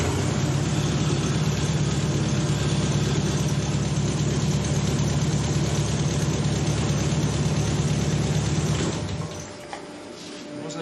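A car engine with its timing out runs steadily with a rough, continuous rumble for about nine seconds, then cuts out, leaving quieter background.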